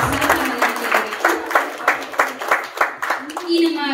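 An audience at a multilingual poetry recital in Dubai claps in a steady, rhythmic beat of distinct, evenly spaced claps for several seconds.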